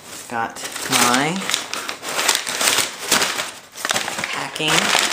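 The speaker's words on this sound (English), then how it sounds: "packing paper. I love that stuff." Packing paper crinkles and crumples in close handling during an airsoft unboxing, the rustling bursts running under a man's speech.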